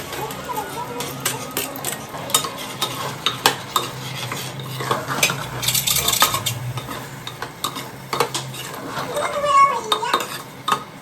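Tahri being tempered in a pot in a village kitchen, a spoon scraping and clanking against the metal with a light sizzle beneath, irregular close stirring strokes and knocks, with occasional voices in the background.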